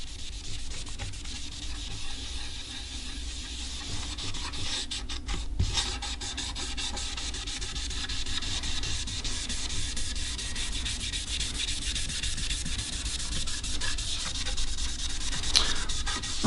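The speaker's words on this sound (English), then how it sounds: "I'm going to go over it with this rag and try and get it soaked in as many spots as I can." A rag rubbing purple stain into a quilted maple guitar body, giving a continuous soft scrubbing and wiping sound with repeated strokes, close and fairly quiet.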